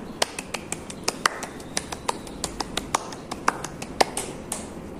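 Quick, steady hand claps from a single person demonstrating a fast tempo in dance movement, a rapid string of crisp, close claps several per second with no talking.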